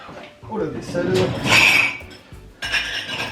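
Dishes, pots and cutlery clatter and clink in a home kitchen during meal preparation, with scraping and knocks of varying loudness close by, partly under a person talking.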